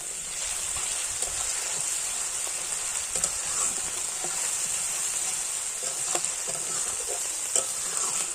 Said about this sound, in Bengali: মশলাটাকে আমি আস্তে আস্তে জাল দিয়ে কষিয়ে নেব